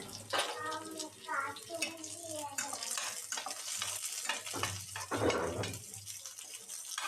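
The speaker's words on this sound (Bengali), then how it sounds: "তেলটা গরম হয়ে এলে দিয়ে দিচ্ছি কিছু রসুন কুচি আর দিয়ে দিচ্ছি কিছু পেঁয়াজ কুচি আর দিচ্ছি চারটা শুকনা মরিচ" Chopped garlic, chopped onion and four dried chillies frying in hot white oil in a pan, a steady close sizzle with stirring scrapes and occasional spatters running throughout.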